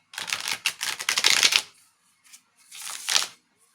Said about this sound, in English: trying to shuffle cards